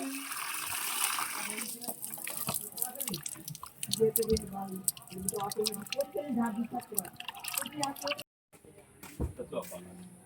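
Raw meat is washed by hand under running water, with splashing, dripping and sloshing close by in uneven bursts, under talking voices, ending with a brief cut.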